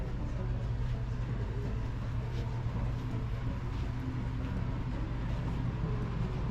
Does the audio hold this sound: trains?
yes